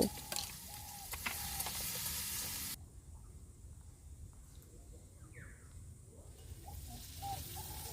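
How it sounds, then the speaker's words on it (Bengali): Sea crab pieces fry in hot oil with salt, giving a steady close sizzle and crackle with occasional stirring scrapes, the sizzle loud at first and then settling softer. "কাঁকড়াটা ভালো করে সুন্দর করে ভেজে নেব"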